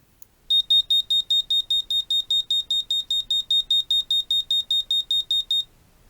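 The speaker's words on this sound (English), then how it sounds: "So I'm going to run this code and show it to you again." An active buzzer wired to a Raspberry Pi Pico running MicroPython code beeps about twenty times in a fast, even pulse of high, shrill tones, loud and close, then falls silent.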